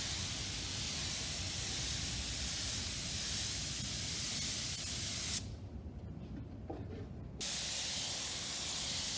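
Watered-down General Finishes Van Dyke Brown wood stain sprayed onto pallet wood trays: a loud, steady broadband spray hiss that runs continuously, cuts off for about two seconds, then resumes.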